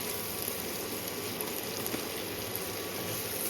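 Onions sizzling steadily in a pan on a hostel stove, a continuous soft crackling hiss at low level with no talk.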